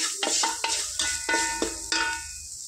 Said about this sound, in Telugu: అల్లం వెల్లుల్లి పేస్ట్ పచ్చివాసన పోయేంత వరకు ఫ్రై చేసుకోవాలి ఫ్రెండ్స్